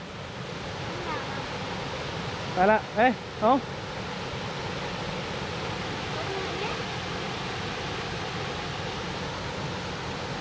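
A waterfall at Phu Pha Man in Khon Kaen rushes with steady broadband noise, and a few brief voices rise over it partway through.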